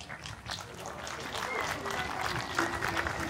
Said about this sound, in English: I can see the applause is just warming up at the moment